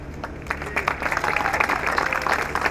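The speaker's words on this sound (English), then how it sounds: "Let's give a round of applause for Bob Kendrick." A crowd at the NLBM 100th anniversary celebration claps for an honoree, a sustained wash of many hands that swells slightly and continues steadily with a faint voice underneath.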